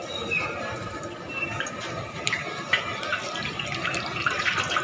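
Bread pakoras drop into hot refined oil in a kadhai, a steady bubbling sizzle with small crackling pops that grow denser over time.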